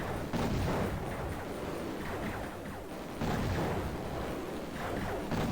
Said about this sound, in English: The missiles aren't hitting them because these are specifically air-to-ground missiles.